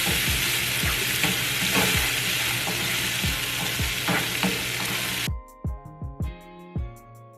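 Red and orange peppers with onions fry loudly in a hot pan, a dense steady sizzle broken by stirring scrapes; the sizzle cuts off near the end, leaving a few separate clanks and knocks.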